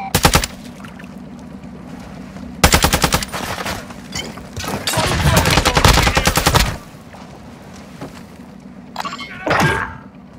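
Rapid bursts of automatic gunfire in Call of Duty Warzone DMZ, loud and close, with one long sustained volley in the middle and shorter bursts around it, plus a few thuds and clanks between them.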